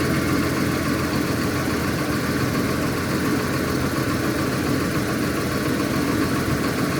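A SpreadPoint TF-10 gravel cart's engine runs at a steady, loud drone with constant vibration and no change in pace as the hopper is raised, with no voices.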